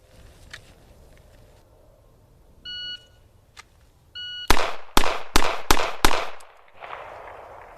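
A carry revolver fires five rapid shots in quick succession, loud sharp cracks about half a second apart. Electronic shot-timer beeps come before them, and a fainter echo trails after.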